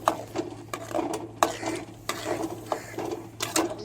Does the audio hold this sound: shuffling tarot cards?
no